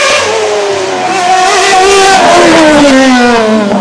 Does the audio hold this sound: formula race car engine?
yes